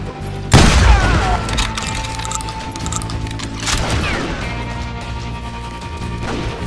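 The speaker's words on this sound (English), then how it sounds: "They're shooting in the street!" Gunfire blasts through a Call of Juarez: Gunslinger shootout on Xbox 360, with a heavy, booming shotgun-like shot followed by a second loud report over dense, continuous street-fight noise and music.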